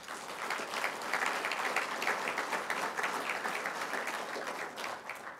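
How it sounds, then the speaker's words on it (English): A commencement audience applauds at the 2012 LAVITA ceremony, a sustained, even roar of many hands clapping at moderate, somewhat distant level, with no voices over it. "So please give them a round of applause."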